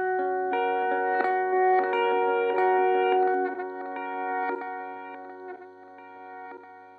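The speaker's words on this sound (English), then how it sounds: "It's a really, really nice reverse delay sound." Electric guitar through a Montreal Assembly Count to Five pedal set to reverse delay, sustained chiming notes swelling backward into each other with a smeared, echoing, slightly warbling tail, played alone at moderate volume.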